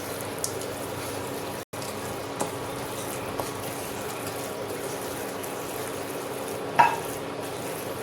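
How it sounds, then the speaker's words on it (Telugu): Fried cashews and raisins stirred into a pan of fruit halwa, a soft continuous scraping and mixing with a low simmering bed, a few light clicks of the spoon and a brief sharper knock near the end. "ఇప్పుడు వీటి మీద మనం ముందుగా వేపి పెట్టుకున్న కాజు కిస్మిస్ వేద్దాం. ఇలా కలుపుకుందాం."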